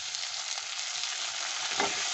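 Onions and tomatoes sautéing in a pan for a garlic kuzhambu, giving a steady close sizzle with soft stirring scrapes throughout and no speech.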